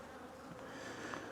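Honey bees hum in a dense, continuous drone from an opened hive box during a spring split, close and steady throughout with no talk.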